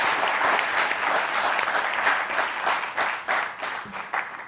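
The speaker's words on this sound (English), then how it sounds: "I'm going to invite you all to give him one more round of applause" Audience applause at an award ceremony for a guest speaker, a dense, continuous wash of many hands clapping at close range that carries on steadily and begins to thin toward the end, with no talking over it.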